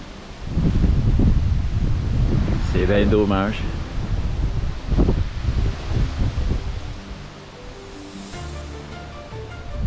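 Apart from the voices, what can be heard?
strong wind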